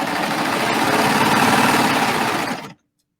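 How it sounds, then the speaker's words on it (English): An 8-thread coverstitch machine runs steadily while ruffling down the center of fabric, giving a loud, continuous mechanical hum for nearly three seconds before it stops abruptly. "I'm going to ruffle right down the center of my fabric because I can, because this is an 8-thread cover stitch"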